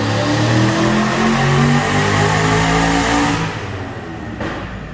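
A turbocharged V8 swapped into an FC Mazda RX7 runs hard on a dyno, its loud, close engine tone steady and rich before easing off toward the end.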